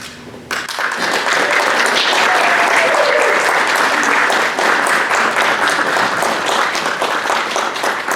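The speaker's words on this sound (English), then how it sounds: "Please give them another round of applause" A Phi Theta Kappa honor society induction ceremony audience at Coastal Bend College breaks into loud, sustained applause, dense clapping filling the room steadily for several seconds with no talk.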